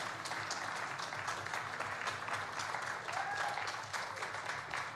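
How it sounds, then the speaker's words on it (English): An audience at a university music performance recital applauds the sound and live stream technicians with steady, dense clapping that fills the room at an even level throughout. "give a round of applause for our sound and live stream technicians"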